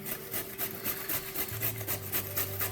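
A carrot grated against a cheese grater in a kitchen while ribs, twice-baked potatoes and green beans are being prepared, giving steady repeated rasping strokes, fairly close and even in rhythm, with no talking over them.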